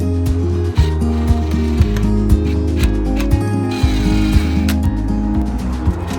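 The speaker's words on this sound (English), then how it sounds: "the only thing left to secure the box to the wall were drilling 4 screws into their respective slots" A power drill whirs loudly and drives four screws to fix a box to a wall, its motor pitch stepping up and down in short repeated bursts, with clicks between them.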